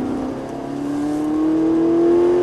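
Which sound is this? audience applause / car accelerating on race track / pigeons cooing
car accelerating on race track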